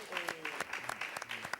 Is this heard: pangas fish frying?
no